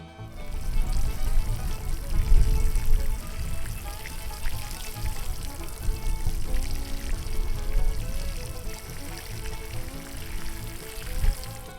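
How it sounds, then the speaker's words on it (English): Water pours steadily over newly planted asparagus crowns in a terraced garden bed, a close, continuous splashing and trickling that lasts throughout with no talk. "All they need now is a little bit of water."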